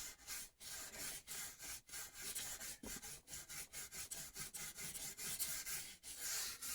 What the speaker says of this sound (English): We want to sand it just a little bit, get it off the edge of the binding